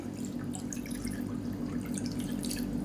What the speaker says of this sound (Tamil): மெஷரிங் கப்பில் ரெண்டு கப் அளவுக்கு தண்ணி சேர்த்துக்கலாம்